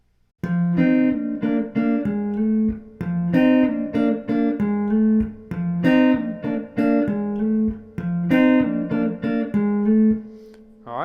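An electric guitar, fingerpicked, plays the piano part of a song. Clear, close plucked chords and bass notes repeat in a syncopated riff with brief gaps, and no voice is heard.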